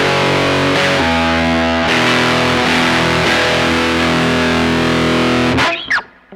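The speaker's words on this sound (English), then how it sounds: "How about the rat pedal? Let's try that with some reverb." Loud, thick distorted electric guitar through a RAT distortion pedal with reverb on a Joyo JA-03B headphone amp, sustained strummed chords changing a few times before cutting off abruptly with a scrape at the end.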